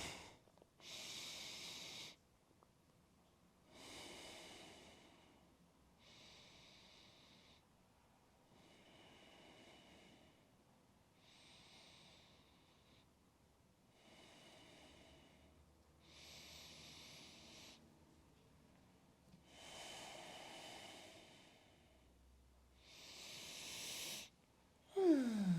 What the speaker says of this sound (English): Let's do 5 deep breaths here and a forward fold.